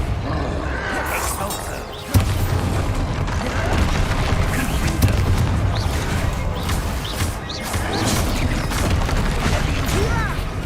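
A Confringo blasting spell goes off in Hogwarts Legacy with a sudden heavy boom. Crashing, rumbling combat noise keeps going after it at a loud, steady level.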